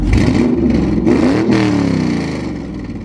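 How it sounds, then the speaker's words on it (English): Car road noise drifts in through an open garage door, a loud steady rush with a rising, passing engine note, with no talking over it. "if you hear a little bit of extra car road noise, that's because I have the garage door open"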